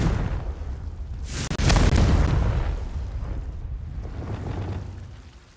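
A Confringo explosive spell blast in the Hogwarts Legacy video game, a loud booming burst with a rushing roar that swells and then decays over several seconds.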